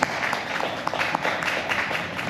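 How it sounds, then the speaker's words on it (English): An audience at a film festival workshop on intellectual property claps for the facilitators, a steady round of scattered hand claps, moderately loud, with no voice over it. "Please clap for our facilitators."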